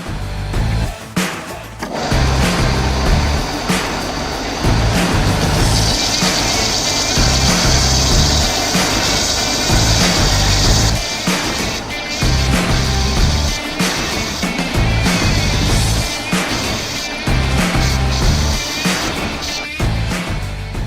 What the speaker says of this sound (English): so now it's just spinning it and rounding it on the sander.